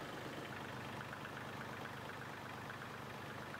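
Kioti tractor engine idling steadily at close range, a continuous low rumble with a faint mechanical knock running evenly throughout, no voices over it.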